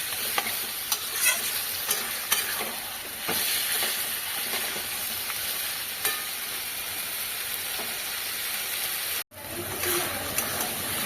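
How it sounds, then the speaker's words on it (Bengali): Chopped tomato and green chillies sauté in a pan for a mild papaya-potato curry, giving a steady close sizzle with repeated scraping stirs. The sizzle drops out for a moment near the end, then resumes. "এবার এটাকে ভালো করে একটু কষিয়ে নেব"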